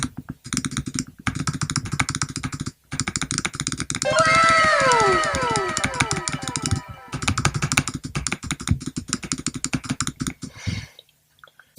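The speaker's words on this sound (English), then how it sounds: "this is a clicking speed test with my regular Apple mouse" A regular Apple computer mouse is clicked as fast as possible for about ten seconds, a dense, rapid, close run of clicks. A brief engine-like whine rises and falls partway through.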